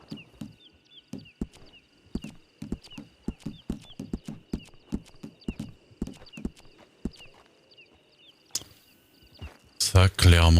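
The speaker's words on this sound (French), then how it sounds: "Je vais peut-être juste ramener mon cheval pour mettre le foin sur lui." Horse hooves clip-clop at a steady walking rhythm in a video game, close and fairly loud, with a faint high tonal hum beneath and a louder burst of noise at the very end.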